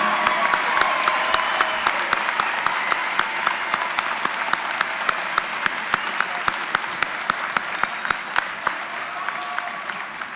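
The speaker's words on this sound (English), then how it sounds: "Let's have a round of applause for our August 2019 doctoral and master's degree graduates from West Texas A&M University." Large commencement crowd at a West Texas A&M University summer graduation applauding the doctoral and master's graduates, a full steady roar of clapping with one sharp, regular clap standing out near the front the whole way through.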